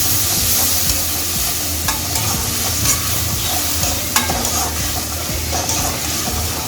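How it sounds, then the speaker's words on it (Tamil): Tomatoes sauté with fried onions for an emperor fish gravy, giving a steady, close sizzle with frying crackle and occasional stirring scrapes, loud and continuous, with no voices. "தக்காளியை சேர்த்து நல்லா வதக்கி விட்டுருவோம்"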